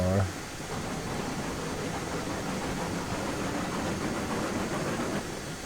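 Train rumbling along the tracks in the railroad simulator game Railroads Online, a steady broadband rolling noise that holds evenly throughout with no voices.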